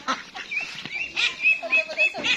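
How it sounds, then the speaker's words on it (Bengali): Gosling, native duckling and Chinese duckling quacks and peeps at feeding time as cabbage and cauliflower pieces are tossed to them, a busy overlapping chorus of close high calls with no pauses. "দেশি হাঁস আছে, চীনা হাঁস আছে।"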